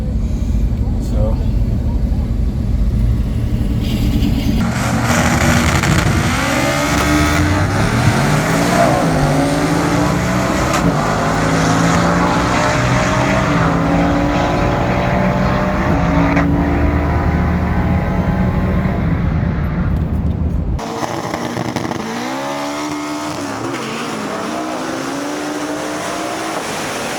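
A car, tested at the drag strip on 93 octane versus E50 fuel, revs and launches on a pass: loud rising engine sweeps through repeated gear changes, roaring continuously, then dropping off near the end with more revving and a faint voice.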